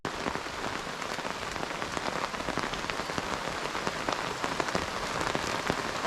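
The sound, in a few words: heavy rain falling at lakeside campsite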